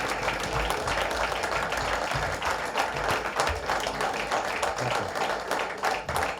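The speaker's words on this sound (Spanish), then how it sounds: "Vamos a dar otro aplauso" An audience at a lecture applauds the speaker again, a full, sustained round of clapping from many hands, moderately loud and steady across several seconds with a few sharper individual claps standing out and no talk over it.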